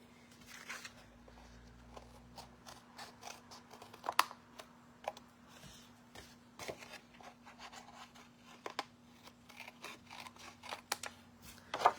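Scissors snip repeatedly at close range while cutting card, quiet and irregular, with rustling and crinkling of material and a faint background hum.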